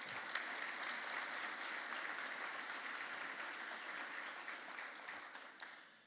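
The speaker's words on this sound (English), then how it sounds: "Please give yourself a round of applause for that vision." Audience at a business plenary breakfast gives a round of applause, a full steady roar of many hands that holds for several seconds, then thins and fades out at the end.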